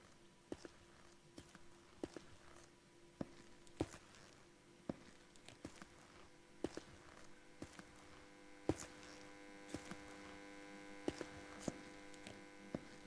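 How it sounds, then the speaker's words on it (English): A low, steady electric hum from a light in an Unreal Engine game scene, droning faintly throughout with a sharp footstep-like tap about once a second over the top. "we just get that little spooky hum from that light"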